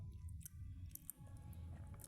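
A reheated fried chicken roll with sauce inside being bitten and chewed, soft close-up squishy mastication with a few crisp crunches, quiet and without talk.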